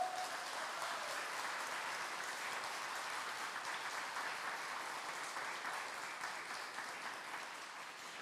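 Church congregation applauding together, a dense, steady wash of clapping that stays loud and sustained throughout with no pauses.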